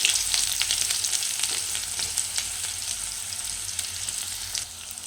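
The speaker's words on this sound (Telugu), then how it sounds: "ఇప్పుడు ఆనియన్ బాగా ఫ్రై చేసుకోవాలి." Onions frying in hot oil with cumin and mustard seeds for a chicken curry, a steady close sizzle with crackling spatters throughout and no talking.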